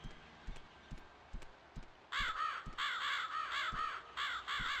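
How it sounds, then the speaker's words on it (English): Crows caw repeatedly in The Elder Scrolls III: Morrowind, a burst of harsh rhythmic calls arriving in quick groups after a stretch of soft footstep-like thumps. "Crows!"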